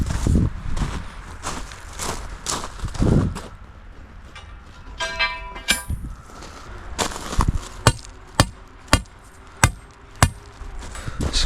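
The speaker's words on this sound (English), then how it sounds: "So that's when you gotta just kind of hammer them into place." Paver stones laid over loose rock and sand for a patio are hammered into place, with irregular thuds early on, then a run of sharp evenly spaced knocks close by, with no talk.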